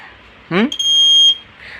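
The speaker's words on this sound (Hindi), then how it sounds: "सिंगल बीप आया मतलब 3 वायर फ्लैशर आपका एकदम ओके" A three-wire motorcycle flasher with built-in buzzer gives a single loud, steady electronic beep lasting under a second, close up, just after a man's brief speech.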